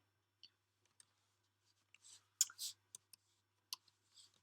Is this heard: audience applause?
no